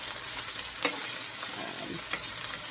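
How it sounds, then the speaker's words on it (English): Beef tips searing in a hot pan for a red wine reduction, a steady close sizzle broken by two brief clinks of a utensil, with no voices. "So we're getting a nice crust and sear on it."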